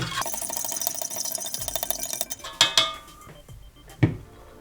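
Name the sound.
stirring grape Kool-Aid drink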